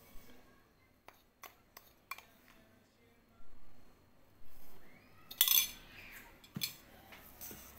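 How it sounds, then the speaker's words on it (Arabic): A spoon clinks and scrapes against a bowl while stirring ground rice into a face mask mixture, in scattered taps and short swirling strokes, close and fairly quiet, with no talking. "وغادي نحركوا مزيان هاد العناصر"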